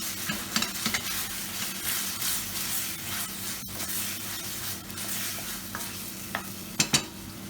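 Jim Beam bourbon flaring and burning off in a hot pan while making BBQ beef brisket, a continuous rough sizzle with scraping stirs and a few sharp clicks and knocks.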